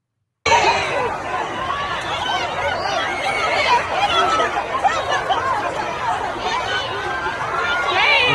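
Crowd at the Philadelphia Pride parade, with pro-Palestinian protesters clashing: dense overlapping chatter and raised voices, a continuous babble with no quiet gaps throughout.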